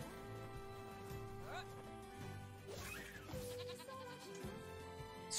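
Sheep bleat a few times in NieR Replicant over steady background music, with a voice talking briefly underneath.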